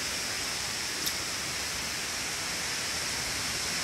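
Middle Falls waterfall gives off a steady, dense rushing roar, continuous and unbroken, with no voices.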